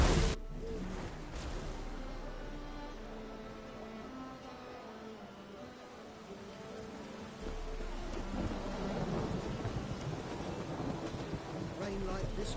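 A thunderstorm rumbles in The Witcher 3 video game as rain falls, with deep thunder rolling in the background, fading in the middle, then swelling again over a steady patter of rain.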